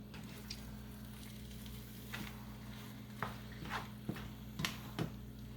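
Carbonara with mushrooms and eggs stirred in a pan over low heat: a soft, steady sizzle with a few quiet scraping and clinking strokes of the utensil against the pan.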